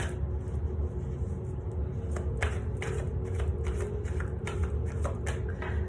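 Tarot cards being shuffled close by, a steady run of crisp riffling flutters and snaps over a low background hum, with no talking.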